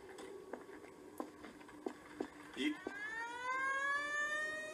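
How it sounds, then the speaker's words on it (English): A few sharp taps and clicks, then a rising siren-like wail begins, its pitch sweeping upward and holding steady at moderate volume. "Why are there sirens?"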